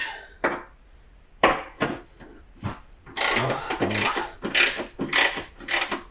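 A hand wrench works loose rusty half-inch bolts on a Troy-Bilt Storm 2620 snowblower, giving close, irregular metallic clicks and scrapes in short bursts that grow busier and denser toward the end. No one speaks.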